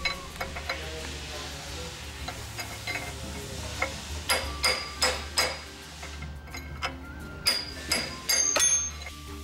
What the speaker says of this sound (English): Using a hammer and punch, drive out the lower knuckle bearing race.